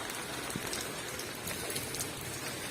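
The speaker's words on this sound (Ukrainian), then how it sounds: "Але от пішов дощик" Light rain falls onto a parked car, a steady soft hiss with scattered pattering drops throughout, fairly quiet and with no voices.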